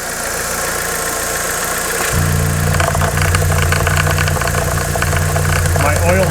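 A 2009-2011 Chevy Aveo 1.6L engine idles with a steady low hum and faint ticking, loud and close. It runs unbroken throughout and gains a stronger, deeper drone partway through.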